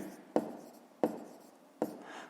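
A pen writes figures on paper while working a fifth-grade math exercise, with three distinct short strokes or taps at a steady pace, each a crisp close scratch that quickly fades.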